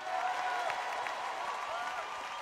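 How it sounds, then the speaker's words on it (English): An audience at a deliverance service in London claps in brief, fairly faint applause, with some crowd murmur underneath. "You can clap better for Jesus."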